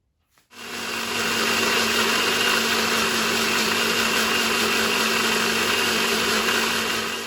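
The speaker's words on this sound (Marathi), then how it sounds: "आतां रेशाद मसाला सगळो हांवें आतां ब्लेंडरान ब्लेंड करता." A blender starts up after a brief knock and grinds Goan recheado masala paste with a loud, steady motor whir that holds constant to the end.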